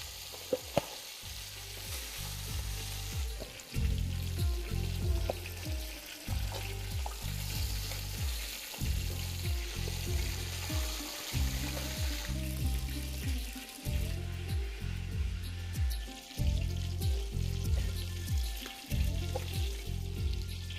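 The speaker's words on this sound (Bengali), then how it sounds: "মাছগুলো ভাজার সময় ফ্লেমটা কিন্তু আপনারা মিডিয়াম টু হাই অবশ্যই রাখবেন" Fish fries in hot oil over a medium-to-high flame, giving a dense, continuous crackling sizzle throughout, overlaid by a repeating low rhythmic hum or beat, with no talking.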